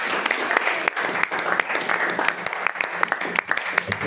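A church congregation applauds during a worship service: dense, steady clapping fills the whole stretch at a fairly loud level, with a few voices mixed in underneath.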